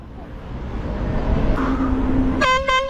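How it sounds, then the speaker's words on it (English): A loud, blaring air horn bursts in near the end with stuttering blasts inside a movie theater, following a low muffled tone over steady background noise. "just blowing an air horn at people"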